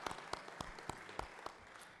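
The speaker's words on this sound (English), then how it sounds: "If you would please join me in honoring them with a good round of applause." Scattered, fairly sparse hand claps ring out in the Georgia Senate chamber, a quiet round of applause with distinct individual claps rather than a dense roar.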